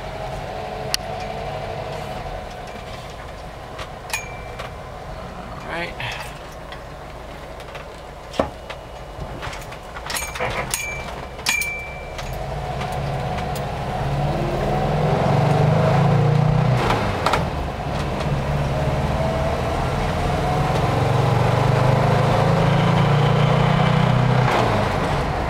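A 1974 VW Transporter station wagon bus, freshly treated with Seafoam, runs steadily with a low air-cooled engine hum, scattered clicks and knocks early on, and the engine note swelling louder as it pulls away.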